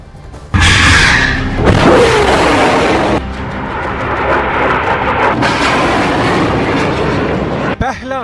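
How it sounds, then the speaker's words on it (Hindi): Hamas rockets launch one after another, each a loud, sustained roaring whoosh that carries on for several seconds, with a brief crackle at the end. "फिर फायर हुआ दूसरा रॉकेट, इसके बाद लॉन्च हुआ तीसरा रॉकेट"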